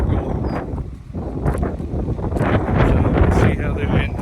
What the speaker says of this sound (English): Wind blowing pretty good today